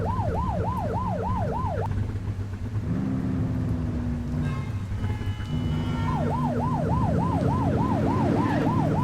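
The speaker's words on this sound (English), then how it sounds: "You're only meant to use the siren in emergencies." A police car siren in the video game The Precinct wails and warbles rapidly up and down, pauses while an engine rumbles, then resumes its fast yelping cycle, loud and close.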